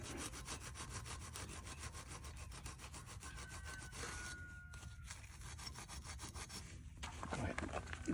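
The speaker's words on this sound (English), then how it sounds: "get a 3M Scotch Brite pad, and I'm going to scrub that surface to make sure that we have a really good contact on that area" Steady back-and-forth scrubbing of a Scotch-Brite pad across the aluminum valve cover surface of a Kohler Courage engine, close and continuous with rhythmic rasping strokes and brief pauses near the end.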